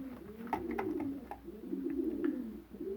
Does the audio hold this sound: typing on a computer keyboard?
no